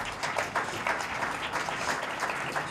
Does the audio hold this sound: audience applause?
yes